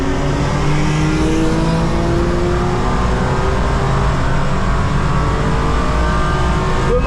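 A rental BMW accelerating hard at full throttle on the Nürburgring, a loud, close engine roar climbing steadily through the revs without a break, heard from inside the car.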